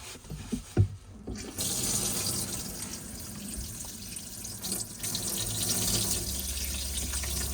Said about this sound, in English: That is just showing you your hot water is warm there.